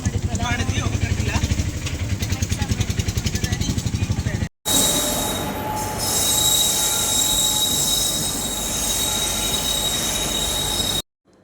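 A train at a railway station platform rolls through with rapid rhythmic wheel clatter, then a long steady rumble with a sustained high metallic squeal, loud and close.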